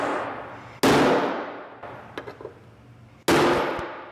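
A hammer drives rivets into the door of a Porsche 356. Two loud, close metallic clangs ring out and fade slowly, with a few faint taps between them and no talk.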